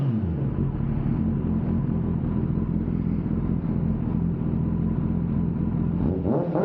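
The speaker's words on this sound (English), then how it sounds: "Engine is quite warm, so I can rev it a bit" A 2021 Kawasaki ZX10R with a warmed-up engine and aftermarket exhaust idles loud and close in a dense, steady low rumble, then blips upward in a short rev near the end.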